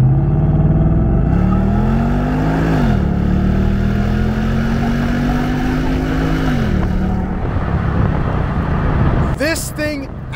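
A stock Ford Mustang GT, 420 horsepower and about 3,900 pounds, pulls hard on back roads, its engine note rising through gears with shift dips, loud and close, ending with a brief sharp squeal.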